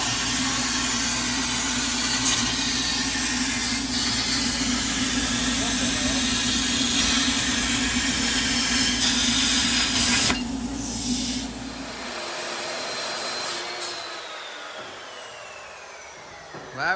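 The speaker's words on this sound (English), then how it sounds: "That was the sound of a torque tube getting cut in half." A torque tube is cut in half in a workshop during a roadster build, a long steady harsh grinding hiss for about twelve seconds that abruptly stops, leaving quieter ambient noise.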